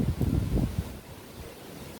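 Strong wind buffets the microphone over a churning wash of waves on Lake Michigan, loud and rough for the first moments before easing to a steadier roar.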